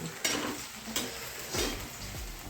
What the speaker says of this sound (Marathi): आता वांगे तळून राहिले.